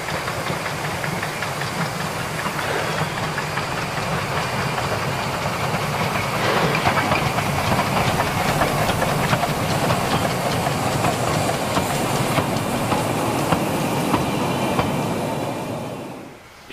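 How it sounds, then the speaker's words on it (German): A special steam train hauled by an IV K narrow-gauge locomotive rumbles past a crossing near Serams on Rügen, clattering wheels and heavy mechanical chugging, loud and close throughout before fading out. "Im tiefstehenden Abendlicht passiert der Sonderzug noch einmal die Kreuzung hinter Serams"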